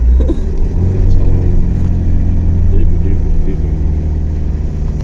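A vehicle engine rumbles loudly and continuously as it climbs the steep, dangerous Kallatti forest ghat road in the Nilgiris, with a deep, steady drone and a slight rise in revs.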